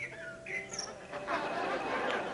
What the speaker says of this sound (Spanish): Fíjate cómo hay pajaritos, ¿no?